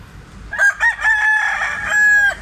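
A sweater gamefowl rooster, a pumpkin-colored street comb bird from Barili, Cebu, crows once loudly and close, a long drawn-out call with a brief break near its start, heard alone.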